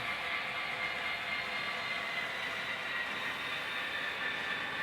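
A Thomas the Tank Engine model locomotive runs on a digitally controlled model railway track, giving a steady, close whirring hum with a bright metallic whine that holds evenly throughout, with no talking.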